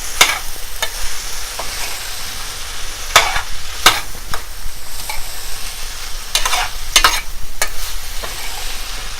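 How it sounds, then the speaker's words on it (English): Potatoes being mixed with cauliflower while frying in a pan for aloo gobi, a steady close sizzle broken by sharp scraping and clinking stir strokes at irregular intervals, with no talk. "And finally the potatoes, and then mix them really well"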